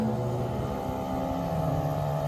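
Ridgid portable tire inflator running, a steady muffled motor hum with a tonal drone, close and continuous, no voices.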